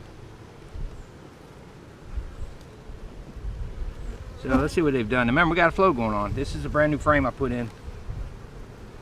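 Bees from a defensive colony buzz steadily around an open beehive, with a newly added frame, holding a constant drone throughout while someone talks close over it in the second half.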